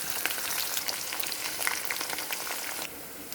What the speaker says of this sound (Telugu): ఇప్పుడు ఆనియన్స్, పచ్చిమిర్చి వేసేసుకుంటామా